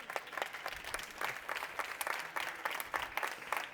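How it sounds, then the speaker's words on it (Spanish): An audience at a mentoring talk applauds, steady dense clapping from many hands filling the room evenly throughout, with no voices on top. "Un aplauso os pido para ellas,"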